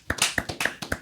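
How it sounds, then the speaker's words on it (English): A single person clapping about eight times in quick succession, crisp and close. "I was told to clap. I clap."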